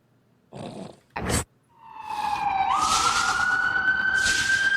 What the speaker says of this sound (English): I can't hear you over the dystopian cop sirens.